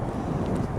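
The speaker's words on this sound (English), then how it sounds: "It's kind of windy up here." Wind buffets the microphone on the open flight deck of the aircraft carrier USS Lexington, a continuous low rushing roar that lasts the whole moment without any speech.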